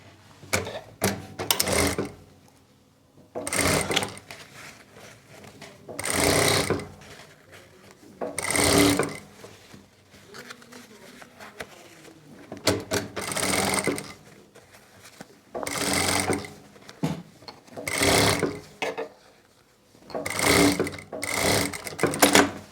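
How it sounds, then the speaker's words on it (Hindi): An electric sewing machine runs a tacking stitch around a turned kurti neckline in repeated bursts of rapid, close mechanical whirring, separated by short quiet pauses. "अब हम गले को पलट लेंगे और ऊपर से एक सिलाई लगा लेंगे कच्ची।"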